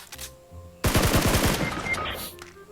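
A loud, close burst of rapid automatic gunfire in the mobile battle royale game PUBG Mobile erupts after a quieter start, about a dozen fast shots followed by fading echoes and game sounds.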